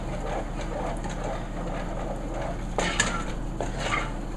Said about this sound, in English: So just give it a stir, mix it in with the olive oil.